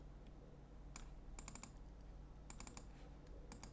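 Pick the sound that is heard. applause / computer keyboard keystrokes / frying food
computer keyboard keystrokes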